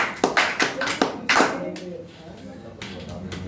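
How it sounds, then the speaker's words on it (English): An audience clapping for a speaker at a public speaking session, starting with sharp distinct claps that blend into a brief round of applause before tapering off, with a voice talking underneath. "Well done, clap for Rohtash."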